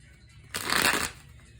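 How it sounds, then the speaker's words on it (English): A tarot card deck is shuffled in one quick riffle lasting about half a second, a close, crisp burst of fluttering card edges against a quiet room. "I'm going to go ahead and begin shuffling."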